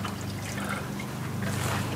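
Engine oil draining from a Porsche 356C into a tray, a steady faint trickle of liquid running continuously without talk.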